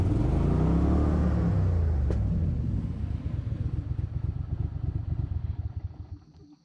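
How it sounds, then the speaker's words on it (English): A mud motor drives a boat and runs loud and close, a rough engine roar that settles into a fast, even chugging rhythm before fading at the end. "Go mud motor."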